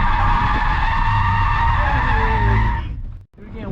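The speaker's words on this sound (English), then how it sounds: "And it kept the car drifting." Loud sustained squeal of skidding tires as a car drifts, engine roaring beneath, the screech cutting off abruptly near the end.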